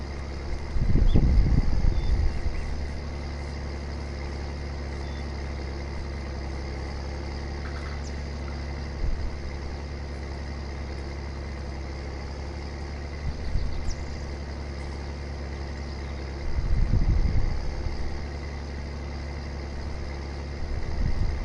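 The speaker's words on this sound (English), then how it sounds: "Man, I love the sound of this tractor. This 6910S." The 6910S tractor engine in Farming Simulator 19 drones as a steady low hum throughout, with a few louder bursts of rumble near the start and toward the end, and no talking.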